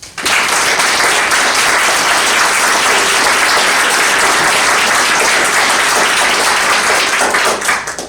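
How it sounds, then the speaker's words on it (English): Loud, sustained audience applause for candidates at a 37th District Democratic primary debate: a dense wash of many hands clapping at once, steady throughout and tapering slightly at the end, with no talking over it. "Let's please give them a round of applause"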